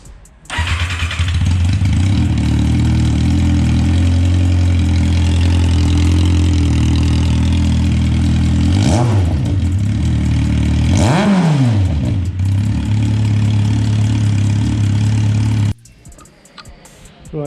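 A Kawasaki Z750 motorcycle with a Black Widow exhaust starts and idles loudly up close, a deep steady rumble broken by two sharp throttle blips before it cuts off near the end.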